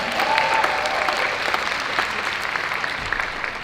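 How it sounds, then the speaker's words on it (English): Steady applause from a conference audience at a women's shelter conference opening ceremony, a dense even wash of clapping that holds at a constant level throughout without a voice over it. "A clap for yourselves."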